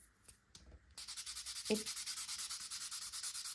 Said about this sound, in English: then I'm going to go in with my buffer